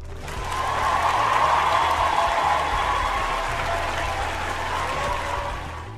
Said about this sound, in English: Ma'am, you get a round of applause.